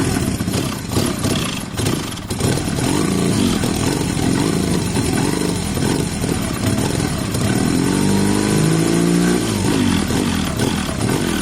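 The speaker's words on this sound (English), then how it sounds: "I'm just running the fuel out, guys, but I probably shouldn't run the fuel out on 1 cylinder." A Honda CB 250 or Yamaha XJ 600 motorcycle engine runs on a single cylinder, idling loudly and continuously close by with a rough, uneven throb that wavers in pitch toward the end.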